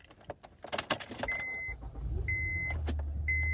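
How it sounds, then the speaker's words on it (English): A 2004 Acura MDX starting with a key: keys rattle and click, a warning chime sounds several times, then the engine turns over and settles into a steady low idle close by. "Now let's start the car."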